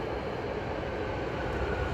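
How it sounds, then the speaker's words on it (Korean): Subway train arriving at a Sakaisuji Line station, a steady, loud broadband rumble of rolling wheels and motors that fills the platform continuously without pause. "말씀드리는 순간 지하철이 들어오고 있습니다"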